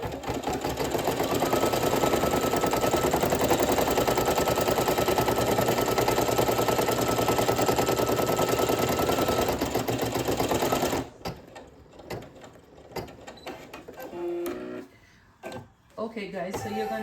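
An embroidery machine sews a placement stitch on a patch in a fast, steady mechanical chatter for about eleven seconds, then stops, followed by quieter handling sounds and bursts of nearby noise.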